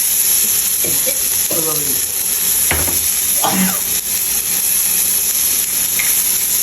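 Chicken chaap sizzles steadily in a hot pan as it is tempered, a continuous close frying hiss with a few stirring scrapes and clinks along the way.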